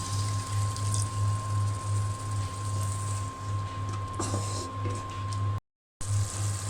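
Water poured into a pan of spice paste with chili powder and salt being fried for a pangas fish curry, a steady close pour running through most of the clip under a constant hum.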